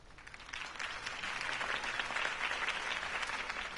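A campaign rally crowd applauds continuously after Harvey Dent's speech, a dense, steady wash of many hands clapping throughout, loud and unbroken.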